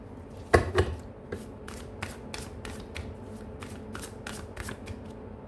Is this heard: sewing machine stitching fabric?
no